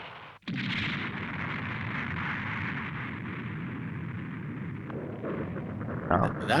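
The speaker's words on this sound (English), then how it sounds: "That's one hell of an explosion." Explosion in a Mobile Suit Gundam anime episode, a sudden blast followed by a sustained loud rumbling roar that carries on, with a voice audible over it near the end.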